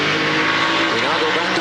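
A Trans Am race car on the Portland track at speed down the back straight, a loud continuous engine roar with shifting pitch, under a broadcast commentator talking.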